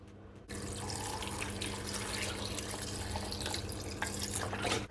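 Water pours steadily in a continuous splashing rush into a blender for strawberry lemonade, close and fairly soft, starting abruptly after a brief pause.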